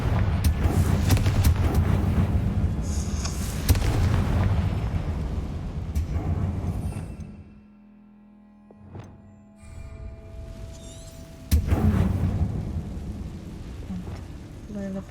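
A Confringo spell explosion in Hogwarts Legacy bursts with a heavy boom and rumbling blast, followed by a quieter lull and another loud impact, with a voice speaking over parts of it.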